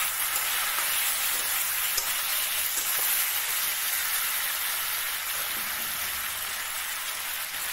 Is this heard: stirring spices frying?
yes